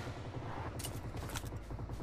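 Rapid bursts of gunfire from a battle in a mobile battle royale match, loud and dense, with sharp crackling shots layered over a steady rumble throughout.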